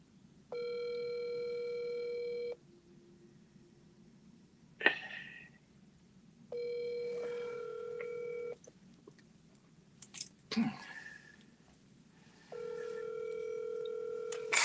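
An unanswered phone call: a ringback tone sounds in three long, evenly spaced rings separated by pauses, with a few faint clicks and bumps in the gaps.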